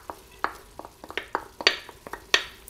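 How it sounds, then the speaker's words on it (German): Garlic goes into a pot of vegetables that have been steaming for a quarter hour, giving a string of sharp, close clinks and brief sizzles spaced irregularly through a quiet kitchen, with no talking. "Dann tue ich jetzt den Knoblauch rein."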